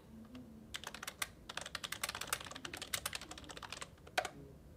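Quick, irregular clicking of keys on a computer keyboard, typed in short bursts with brief pauses, fairly close and quiet, with a faint voice at the start.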